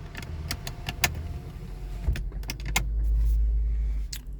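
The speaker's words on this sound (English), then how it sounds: "Just at least put the window up" A 2017 Kia Sorento's power window motor runs as the glass goes up, a low steady whir swelling toward the end, preceded by several sharp clicks and small jangling taps inside the car.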